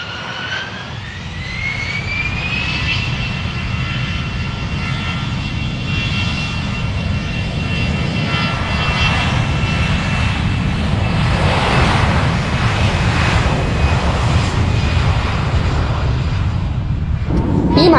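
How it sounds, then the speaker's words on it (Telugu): An IndiGo passenger jet on a Hyderabad to Vizag flight, its engines roaring steadily from inside the cabin, with a rising whine early on and a loud, constant rumble throughout. "మళ్ళీ same flight take off and landing."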